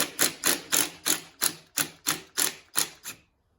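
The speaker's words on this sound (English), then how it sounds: "I'm just going to loosen these ones just a little bit." A ratchet or wrench loosens the handlebar clamp bolts on a Yamaha Raptor ATV: about ten sharp, evenly spaced clicking strokes, close and clear, with no talk, ending abruptly.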